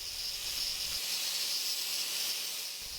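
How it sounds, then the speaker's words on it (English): An angle grinder fitted with a flap disc grinds the face of a metal cone wrench, a loud, steady high-pitched hiss that runs unbroken from start to finish, with a low rumble dropping out partway through. "don't push too hard on the grinder and try to work around the entire face evenly."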